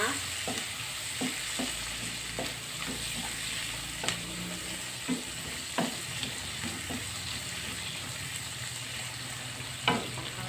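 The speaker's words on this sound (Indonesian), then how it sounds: "kita aduk ini udah harum ya terinya" Anchovies frying in a pan with a constant soft sizzle, punctuated by regular scraping clicks of a spatula stirring them, close up and with no voices.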